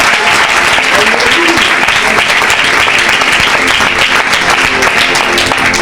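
A church congregation at a prophetic healing service applauds Jesus with loud, dense, steady clapping and crowd voices throughout.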